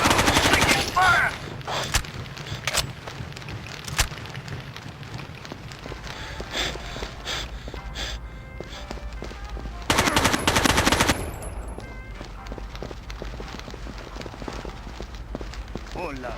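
Automatic gunfire from a tactical shooter game, Rainbow Six 3 on GameCube, rattles in loud repeated bursts, heaviest near the start and again around ten seconds, with radio-style talk in between.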